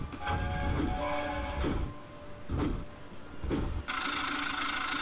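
The Flying Scotsman steam locomotive runs down the line with loud, rhythmic chuffing puffs over a rumbling roll, ending in a sustained bright hiss of steam.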